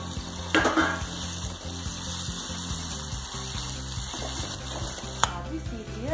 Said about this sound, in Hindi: और प्लेट से ढक देंगे और सीजने देंगे ककड़ियों को।